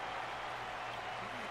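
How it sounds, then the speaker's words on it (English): Steady applause from a game audience at a martial arts exhibition match in Honkai: Star Rail, a continuous broadband clatter of clapping held at an even level throughout, with no voices standing out. "Their constant applause is a salute to this resilient Belabogian fighter."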